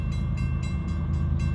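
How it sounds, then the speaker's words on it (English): A southbound train passing at night, its low rumble steady and loud throughout, with a faint horn-like tone in the upper range. "got a train coming from the north, and of course he's headed south"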